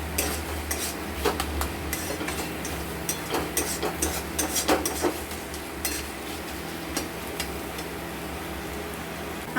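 A spoon or spatula stirs a banana flower mixture in a frying pan, scraping and clinking in irregular close strokes over a soft background sizzle.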